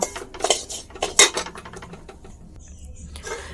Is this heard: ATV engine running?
no